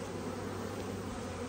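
Honey bees hum in a dense, continuous buzz at a backyard hive whose frames are being capped with honey, a steady close drone with no other sounds.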